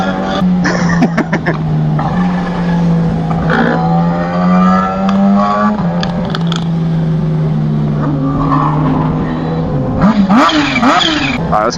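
A Kawasaki H2 motorcycle riding along and revving, its engine note climbing and dropping through repeated loud revs and gear changes, close and continuous with no talking.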